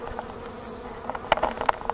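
Honey bees buzz at a hive entrance in a low, steady drone, with a few individual insects flying close past in short louder swells.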